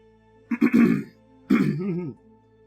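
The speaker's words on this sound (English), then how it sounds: "just clearing my throat a little bit" Two close, rough throat clearings, a short double rasp followed by a longer gravelly one, in an otherwise quiet room.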